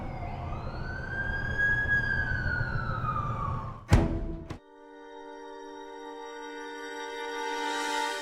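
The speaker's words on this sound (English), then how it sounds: "That's the ambulance I called." An ambulance siren wails in the game The Amazing Spider-Man 2, a rising and falling tone that cuts off sharply and gives way to a steady tonal hum.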